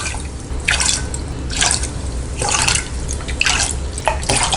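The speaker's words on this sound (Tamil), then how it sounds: "8 டம்ளர் தண்ணி விட்டுக்கலாம்." Water is poured into a pan holding sugar to make syrup for gulab jamun, arriving in about five separate splashing pours from a tumbler, each a short gush of liquid followed by a brief pause.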